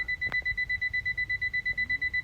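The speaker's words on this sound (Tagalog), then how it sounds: "Nag-alarm na yung alarm clock ko dahil alas 6 na." An alarm clock beeps in a fast, steady pulsing pattern, loud and close, with no voices.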